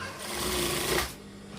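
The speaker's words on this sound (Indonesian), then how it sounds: "Jadi kita jahit belahan tangannya dulu" A sewing machine stitches a sleeve slit on a Kasumedangan-style garment, a close, steady whirring run of about a second that then stops, leaving faint room noise.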